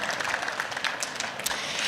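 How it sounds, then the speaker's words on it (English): A conference crowd at an agricultural innovation stage event applauds a colleague named Tara, producing a continuous, even patter of many hands clapping throughout. "So I'd love to give her a round of applause."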